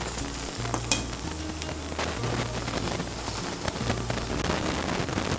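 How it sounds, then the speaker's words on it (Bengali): Lentil paste frying in hot oil in a wok (kadai) for a Bengali chal kumro chapor dish: a steady, dense sizzle and crackle that continues the whole time, with faint stirring clatter and no talk. "ডালের পেস্টটা আমি কড়াইতে ছড়িয়ে দেব।"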